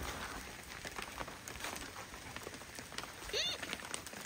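Steady rain patters on a farmhouse roof around an open skylight hole during renovation work, a constant soft hiss with a brief brighter squeak or scrape near the end.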